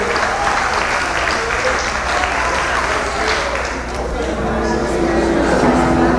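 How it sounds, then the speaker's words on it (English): A crowd claps steadily throughout, a dense, sustained wave of applause with cheering mixed in. "I think they deserve a round of applause"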